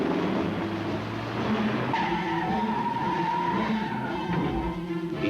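A Chrysler LeBaron GTS racing a BMW 528e, with loud continuous engine roar and screeching tire skids, a sustained squeal rising midway over the throaty drone.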